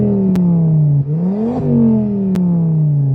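A Volvo V50 T5 with a 2.5-liter turbocharged five-cylinder engine revs loudly and close up, pitch dipping, climbing sharply and falling back, with a couple of sharp clicks over the steady engine note.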